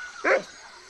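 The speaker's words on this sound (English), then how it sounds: "This crazy mutt is trying to kill me." A single short, sharp bark from a dog in the Monkey Island 2: LeChuck's Revenge video game, loud and close against a quiet background.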